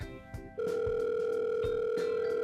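A telephone dial tone starts right after the phone is picked up, a steady, loud continuous tone following a few soft handling clicks and taps.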